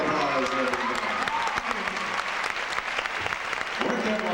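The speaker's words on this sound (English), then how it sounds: "Now, big round of applause, everybody." A crowd applauds steadily at The Ritz, dense clapping sustained throughout, with faint voices and a few tonal sounds under the applause.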